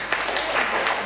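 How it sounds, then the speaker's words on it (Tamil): An audience at a Thiruvasagam conference claps in a brief, dense burst of applause with several slightly louder swells, filling the hall evenly. "கைத்தட்டுங்க."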